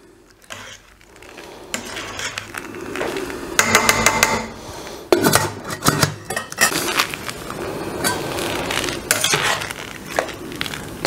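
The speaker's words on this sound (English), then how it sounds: "As you heat up your dye, give it a stir every now and again." A utensil stirs walnut husk dye in a pan, scraping and knocking against the metal in irregular rough strokes with some crunching from the husks, close and loud without any talk.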